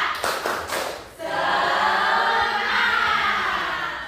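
A primary school class claps a rhythmic morning cheer, a few quick sharp claps at first, then a sustained burst of many children clapping together close by, fading toward the end.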